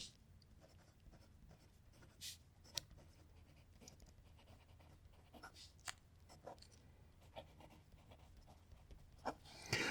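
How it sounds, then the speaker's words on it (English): Steel nib of a 14-karat gold fountain pen scratching and skipping across paper as it struggles to write, with faint soft strokes and a few sharper scrapes, close and quiet. "So we've got here a pen that is struggling to write."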